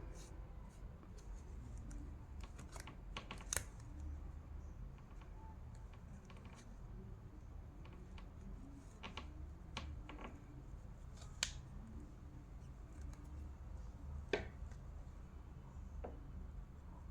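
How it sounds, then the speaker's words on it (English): Scissors cut crochet yarn in scattered sharp snips and small clicks spread across a quiet, close scene, with faint soft handling noises in between. "We'll cut the extra yarn."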